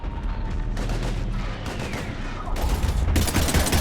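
Heavy gunfire from Mass Effect 3 rattles nonstop as rapid automatic bursts and booming shots pile up, loud and close, swelling even heavier in the final second.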